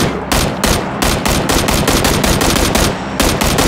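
Rapid automatic gunfire in the PUBG battle royale game, a loud sustained burst of closely spaced shots with a few tiny gaps, close and alone without talk.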